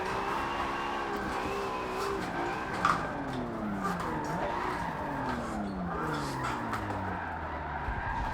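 A Nissan R32 Skyline drifting in Forza Motorsport 7 holds a steady tire squeal through a run of esses, with the engine note rising and falling underneath.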